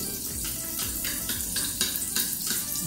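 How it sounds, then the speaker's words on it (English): White onions hit hot butter and oil in a pan and sizzle steadily at close range, with soft rhythmic stirring scrapes running through the frying hiss and no voices. "Mainit na, let's add in our white onions."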